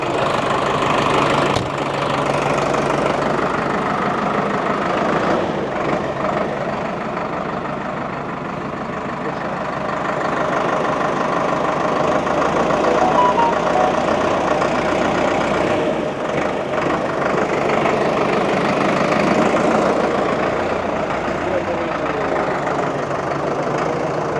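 Inside the cab of a moving Solis 105 tractor, the engine drones steadily and loudly for the whole stretch, a constant mid-pitched rumble with slight swells in intensity.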